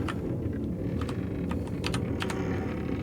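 A name is typed on a PC keyboard, a quick irregular run of crisp key clicks close up over low room noise.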